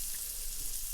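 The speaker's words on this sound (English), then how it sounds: "Hear that sizzle?" A steak sizzles in a hot skillet with avocado oil, a soft, steady crackling hiss heard briefly and quietly on its own.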